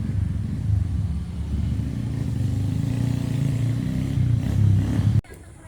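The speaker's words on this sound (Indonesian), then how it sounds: "Saya parkir di sini tuh motor saya, motor Pak RT Dede" A motorcycle engine runs steadily at close range in a village in Cipawentang, West Java, a low rumbling idle that rises slightly before cutting off abruptly near the end as the bike is parked.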